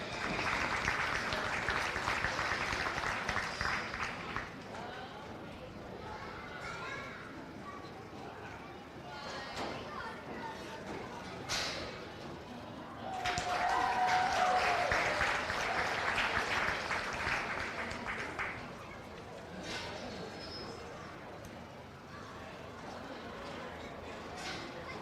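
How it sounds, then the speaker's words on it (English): Audience at a county fair goat show applauds the young exhibitors, a broad burst of clapping that fades, then returns in a second strong swell midway, with a voice on the public address speaking between the rounds. "Let's give all these kids a big round of applause"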